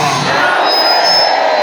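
A church congregation at an evening Bible seminar shouts and cheers loudly together, a dense, sustained roar of many voices filling the hall.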